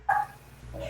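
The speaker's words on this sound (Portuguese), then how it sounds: "Minha cachorra está chateada com vocês, que ela quer comer" A female dog gives a single short, sharp bark close by, followed by a quieter whining tone against a low background hum.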